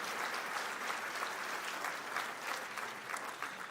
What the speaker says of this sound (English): Let's give them another big round of applause